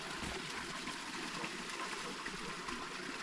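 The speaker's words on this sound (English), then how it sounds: "It's a really pretty waterfall." Steady rushing of water from a small waterfall, a continuous even hiss with no pauses or other sounds.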